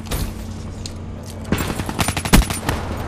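Pistol and other gunfire in a Black Ops 3 hardcore multiplayer match, a rapid cluster of sharp shots building toward a loud burst late on, over steady game background noise.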